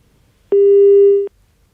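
After a call drops, a telephone busy tone sounds once as a single steady, clear beep lasting under a second, set against near silence.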